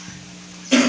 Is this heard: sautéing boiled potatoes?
no